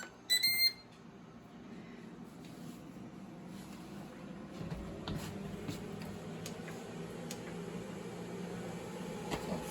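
An air fryer running on a VANPOWERS Super Power PRO 1500 backup power station beeps as it is set to 400. One short, loud electronic beep comes first, then a faint, steady fan whir.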